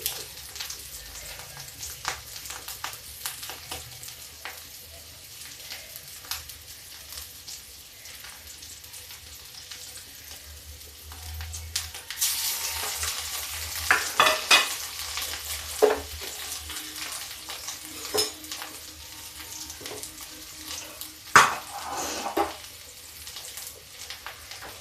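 Bitter gourds coated in tamarind masala fry in a pan, a steady low sizzle under repeated scraping and stirring with a spoon that grows busier and louder partway through, with no voices.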